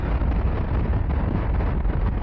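Steady, loud rumbling wind buffeting the microphone while riding a VOGE SR1 ADV motorcycle, a constant low roar with no voices.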